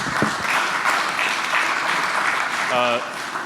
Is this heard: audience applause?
yes